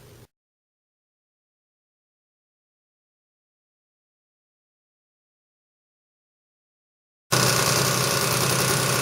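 A motorized scooter engine starts up suddenly after a long silence and runs steadily, close and loud, with a buzzy drone.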